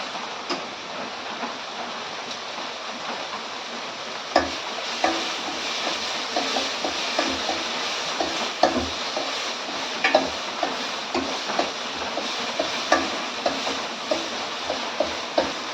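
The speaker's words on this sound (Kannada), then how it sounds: "ಫ್ರೈ ಆಗ್ತಾ ಇದೆ" Okra palya with coconut fries in a pan, giving a steady close hiss with scattered clicks and taps, as from stirring, growing more frequent partway through.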